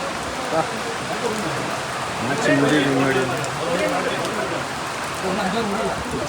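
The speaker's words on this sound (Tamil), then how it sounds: "பார்க்கும்போதே பாருங்க எவ்வளோ மழை" Steady heavy rain hisses throughout at a cricket stadium in Salem, swelling slightly midway, while a person talks over it.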